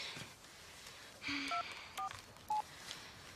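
A telephone number being dialed on a keypad, with five short electronic tones spaced irregularly over a quiet indoor background.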